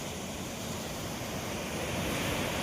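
Ocean waves wash steadily against the shore in a continuous broadband roar, with some wind noise on the microphone and no voices.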